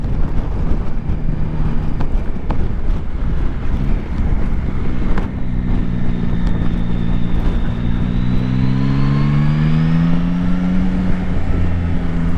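Yamaha Tracer 9 GT+ motorcycle with a triple engine and quick shifter under way, its engine droning steadily beneath heavy wind rush, rising in pitch as it accelerates through the gears.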